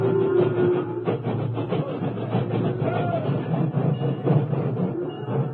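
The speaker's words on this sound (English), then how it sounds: "at sunset, an engine backed into position" A railroad engine backs into position against train cars at sunset, a steady low rumble and rolling clatter with faint clanks, heard fairly close and continuous.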